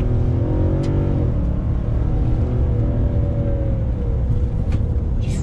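A 2020 Nissan Titan Pro-4X pickup truck drives through a left-hand bend, its engine a loud, steady drone from inside the cab with a gentle rise and fall in revs and tire and road noise underneath.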